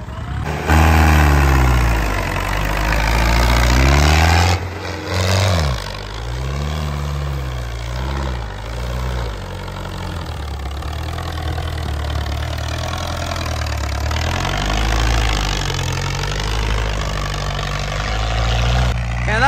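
A tractor engine running loud and close during a stunt show, a deep steady mid-pitched drone that shifts in pitch as it revs up and eases off, with no talk.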